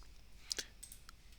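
A computer mouse gives a couple of crisp, faint clicks close together, followed by lighter ticks against a quiet background.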